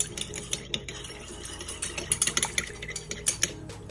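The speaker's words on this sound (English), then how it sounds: "Stir it like crazy to dissolve all of the jelly powder" A spoon stirs lemon jelly powder into hot water in a bowl, with quick, uneven metallic clinks and scrapes close by, rapid and busy, with no speech.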